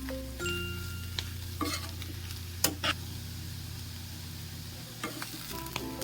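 Bitter gourd (karela) being stir-fried with masala in a pan: a soft, even sizzle broken by a few sharp spatula knocks and scrapes, with light music playing underneath.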